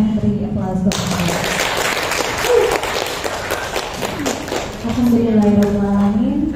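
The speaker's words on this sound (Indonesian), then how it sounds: "Silakan beri aplaus Bapak Ibu." School staff and employees at a junior high school gathering applaud together, a dense burst of clapping filling the room for several seconds, with speech before and after it.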